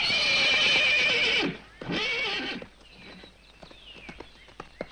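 A horse gives a loud, close whinny in two drawn-out bursts, followed by lighter hoof clops and shuffling sounds.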